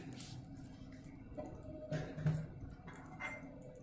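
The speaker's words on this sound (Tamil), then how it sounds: "இது கொஞ்சமாக தண்ணி ஊற்றி தேவையான அளவு தண்ணி ஊற்றிக்கலாம்." Water poured into wheat flour for dosa batter, with soft drips and wet squishing sounds from the mixing that come and go close up.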